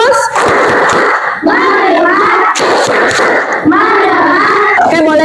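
Schoolchildren in a classroom perform a rhythmic group clapping routine, bursts of claps alternating with chanted voices in unison, loud and lively with overlapping shouts.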